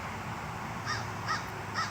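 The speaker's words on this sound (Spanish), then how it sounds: "Y por allá unas burracas chillando." Burraca birds screech in open countryside, three harsh caws spaced about half a second apart, moderately distant over a quiet rural background.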